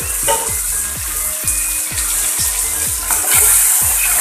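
Pieces of eel fish frying in a hot pan with turmeric, a loud steady sizzle broken by repeated scraping stirs at a regular rhythm, close up and alone.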